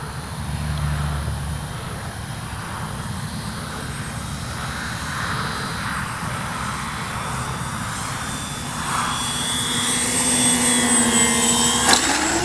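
Engine drone of a radio-controlled B-25J warbird model plane making a touch-and-go at a flying field, a steady buzzing roar that holds throughout and swells slightly louder near the end, with no talk.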